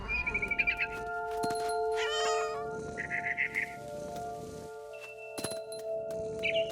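A cat meows repeatedly inside the game What Remains of Edith Finch, short yowling calls scattered through the scene alongside chirping bird calls and ambient game tones.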